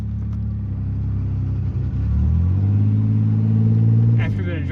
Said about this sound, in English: Oh, the rotors are definitely crunchy.